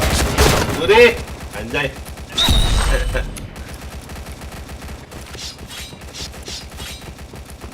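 Bursts of gunfire in the PointBlank video game, with rapid shots and mechanical weapon clicks in loud clusters early on, then quieter rattling sounds, while someone talks over them.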